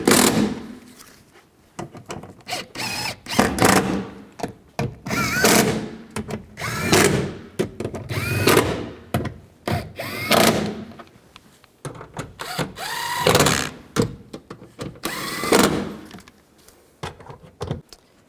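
A power drill tightens bolts on the front driver's side window regulator of a 2004-08 Nissan Maxima, heard close up as a series of short, repeated whirring bursts with brief pauses between them.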